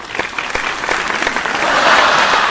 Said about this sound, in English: you're just clapping because of the sign.